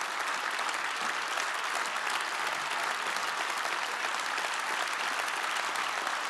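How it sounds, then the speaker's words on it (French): A conference audience in a theatre gives sustained, dense applause for a former French president, a loud, even roar of many hands clapping that holds steady throughout without a break. "Tonnerre d'applaudissements pour l'ancien président de la République."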